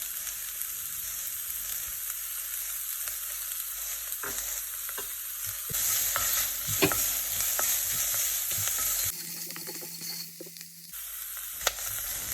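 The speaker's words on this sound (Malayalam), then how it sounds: "സവാള ചേർത്തതിന് ശേഷം വീണ്ടും ഒരു 3-4 മിനിറ്റ് നന്നായിട്ട് വഴറ്റി കൊടുക്കാം." Onions with salt sautéing in a pan for tomato chutney give a steady close sizzle with stirring scrapes, a brief quieter break near the end, and no voices.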